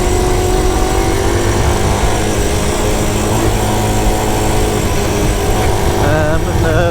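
A Honda Postie motorcycle rides a dry spring trail, its small engine buzzing steadily and close throughout, with wind rush and a rising rev near the end.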